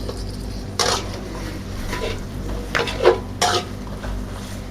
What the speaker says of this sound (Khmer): នេះបងស្ករយើងកូរវាឡើងពងក្រងប៉ុណ្ណឹង